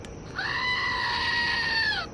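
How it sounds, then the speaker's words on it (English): A goat screaming sound effect: one long, loud, strained bleating scream that holds steady for almost two seconds, then cuts off, played on its own with no talking. "how many screaming goats would I give this?"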